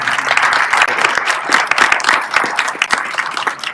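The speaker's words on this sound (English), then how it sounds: "Give St. Agnes a round of applause for the great work." An audience at a community meeting claps for St. Agnes, a loud, dense round of applause with sharp individual claps running steadily throughout.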